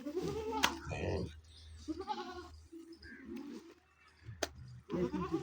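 Goats bleating on a village farm, several calls at varying distances mixed with other animal sounds and faint voices.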